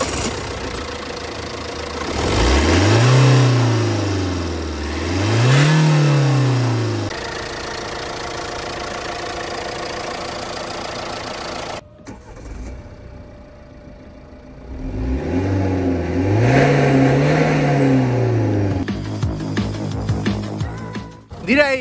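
A Jeep Renegade Limited 1.6 Multijet 120 hp diesel with DDCT dual-clutch automatic starts with a half turn of the key and settles into a steady, close idle, with rising and falling revs, a quieter stretch, then another rev.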